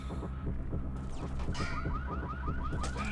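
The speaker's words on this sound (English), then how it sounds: "Maybe the car alarm can be used to do something?" A car alarm in the Hitman: Contracts video game blares in a fast, throbbing, repeating cycle of pulsing tones, loud and continuous with no speech over it.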